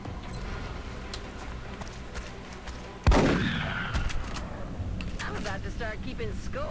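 A single sharp gunshot from the XCOM video game cracks out loud and close midway through, trailing into a brief decaying rumble over steady low game ambience, with a voice talking around it.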